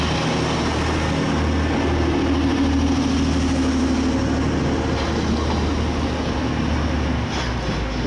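Trains idle and move at Manchester Piccadilly station, including Class 175 and Class 185 diesel units bound for Manchester Airport, giving a steady loud engine rumble with a faint rising tone and continuous platform ambience.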